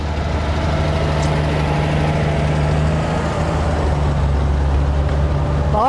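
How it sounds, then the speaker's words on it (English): An Oliver farm tractor idles steadily at close range, its loud engine keeping a low, even throbbing rumble the whole time with no change in speed. "Oliver at one time was a very popular tractor."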